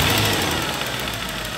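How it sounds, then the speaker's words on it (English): A used car's engine runs steadily at close range for under two seconds, a continuous low rumble with a slight knocking texture and no voices. "our next step is to start the engine"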